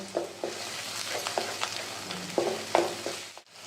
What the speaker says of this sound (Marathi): हे वाटण तेल सुटेपर्यंत परतून घ्यायचं